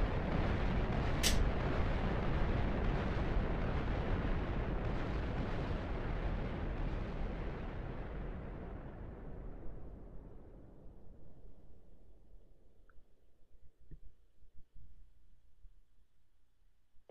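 Huge rumbling blasts from a railgun tearing into the ground in the Minecraft ICBM missile mod, a dense roaring wall of destruction that slowly fades into scattered crackles and pops.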